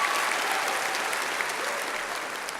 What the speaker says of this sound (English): Let's give Lauren another round of applause.